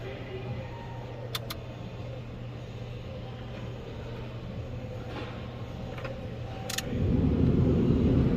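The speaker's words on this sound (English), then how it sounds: "We got a blower now." The heater blower motor in a 1999 Ford F250, running after a repair of its ground wire, heard as a steady mechanical whir that jumps to a louder, rushing airflow near the end, with a few faint clicks and no talk.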